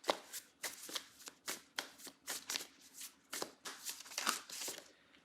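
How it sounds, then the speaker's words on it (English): Tarot cards being shuffled by hand, a close series of about a dozen quick riffling bursts in an uneven rhythm, quiet and alone without speech. "Let me clarify by pulling some more cards."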